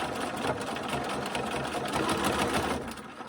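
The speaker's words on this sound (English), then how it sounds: "notice I'm sewing off the edge. I feel like I can get a better point in my bag if I do that." A sewing machine stitches a fabric bag for a cross-stitch bunny bag project, running steadily and close up without pause, a continuous whirring motor with rapid needle clatter.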